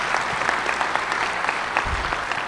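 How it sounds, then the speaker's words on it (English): An audience at an award ceremony claps in a steady burst of applause that fills the room and continues throughout. "we'll just clap for them because they were there"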